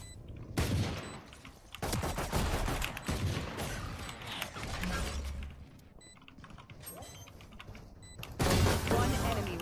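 Gunfire in the video game Valorant: sharp, loud bursts of shots arrive in several clusters, with metallic weapon-handling clicks and clatter between them, and no talking.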